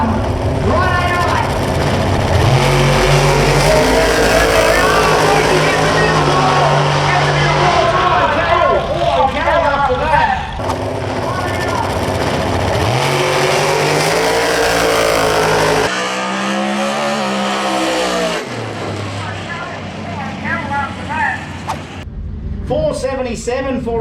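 Drag radial race cars at a King of the Kids cash shootout roar and rev loudly, engines rising and fading as they launch down the track, with an announcer talking over the noise throughout.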